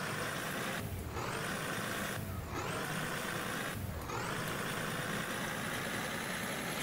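A fire truck engine idling in the EmergNYC game: a steady low diesel rumble with a constant high whine, broken by three short breaks about a second and a half apart.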